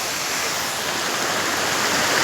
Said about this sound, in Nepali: मोहिनी झरना